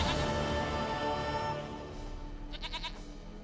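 Goat bleating in The Witcher 3 video game, a short wavering series of bleats near the end, following a dense stretch of in-game ambience and music.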